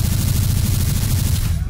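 Rapid, continuous gunfire in Garry's Mod's Morbus mode, a dense loud burst of shots running without pause for under two seconds and ending abruptly, with no clear talk over it.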